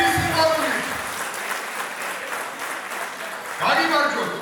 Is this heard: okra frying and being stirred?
no